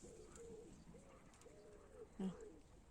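Soft, low cooing from a pigeon in a garden after rain repeats several times at a moderate distance, with a quiet background hiss and a brief louder bump near the end.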